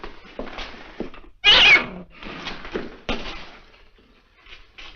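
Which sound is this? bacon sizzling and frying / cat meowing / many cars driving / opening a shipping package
cat meowing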